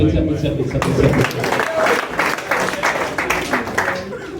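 Applause from a comedy festival audience in Goma rises under a comedian's ongoing French talk, a dense wash of clapping that holds through the whole stretch.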